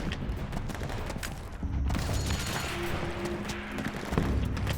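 Rapid suppressing gunfire in the war game Metal Gear Solid 4: Guns of the Patriots, a dense continuous fusillade of shots and bursts, loud and steady with no talk.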